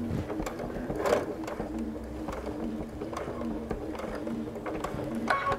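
A sewing machine stitches binding onto a Christmas pot holder, a steady close mechanical whir with rapid needle ticking running continuously without pause.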